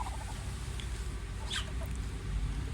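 Soft chirps and peeps from small ducklings over a quiet background hum, with no talking.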